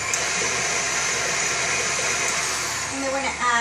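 A KitchenAid stand mixer whirs steadily and close, kneading dinner roll dough with melted butter, a constant motor drone that shifts slightly near the end.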